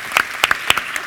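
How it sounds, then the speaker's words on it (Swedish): An audience at a Swedish heritage award ceremony, honoring the Municipality of the Year for cultural environment and the medals of the Swedish National Heritage Board, gives a short burst of applause: a few loud, distinct claps close by in an uneven rhythm. "jag tycker vi ger en till applåd för alla de här orden"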